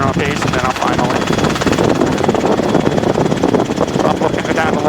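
A Robinson R22 helicopter in flight on a training sortie, a loud continuous rotor and engine drone heard from inside the cabin, with a voice talking over it.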